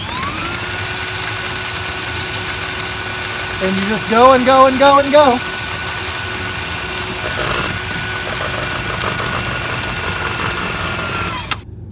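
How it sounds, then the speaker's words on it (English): A motorized drain auger runs with a steady mechanical whine and hum while feeding its cable to clear a clogged drain, constant throughout, with a person talking briefly over it. "when this is pulled forward and you hold it in place and you pull the trigger, it extends that auger out"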